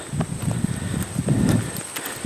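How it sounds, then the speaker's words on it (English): Footsteps on a quiet rural road, steady walking steps heard close under light wind noise, with no talking. "But I can hear the sound of my own footsteps."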